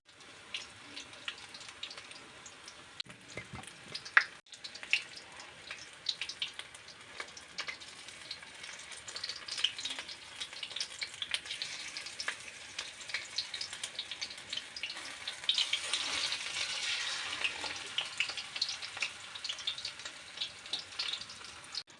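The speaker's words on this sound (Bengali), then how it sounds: "সবগুলো ঠিক এই রকমভাবে ভেজে আপনাদেরকে আমি দেখাচ্ছি" Capsicum chops deep-fry in oil, a soft, steady bubbling sizzle that swells slightly toward the end, fairly quiet and continuous with one sharp tap early on and no talking.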